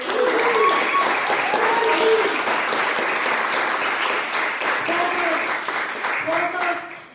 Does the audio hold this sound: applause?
yes